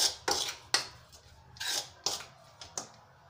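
Flour and ajwain being mixed by hand in a bowl for methi paratha dough, a series of soft rubbing, scraping strokes in an irregular rhythm, close and quiet with no speech.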